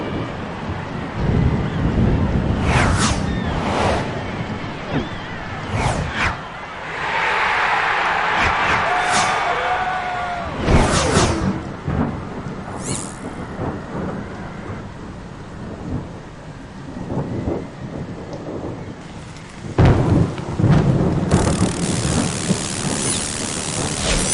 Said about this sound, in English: the following morning was stormy and foul